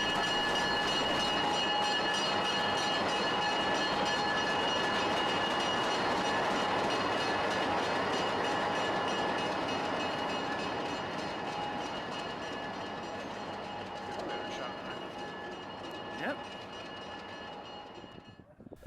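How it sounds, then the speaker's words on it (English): Nevada Northern Railway locomotive 109 rumbles through the rail yard at East Ely, a loud, sustained diesel drone with steady tonal whine that slowly fades as it moves away, with a brief clank near the end. "The 109 has been assigned as today's power to take the afternoon excursion train"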